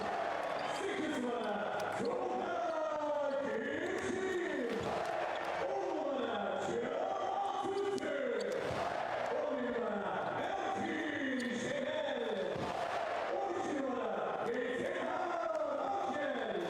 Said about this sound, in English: the crowd are really getting revved up now as their home team,